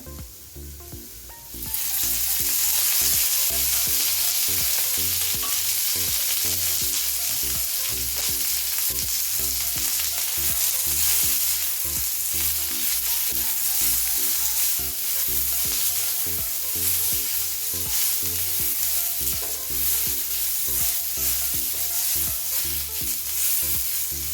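Onions frying in hot oil for a fish curry burst into a loud, dense, continuous sizzle after a quieter first couple of seconds, steady and close.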